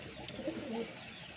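Pigeons coo softly in a loft of breeding pairs, a low muffled burble over a steady background hum.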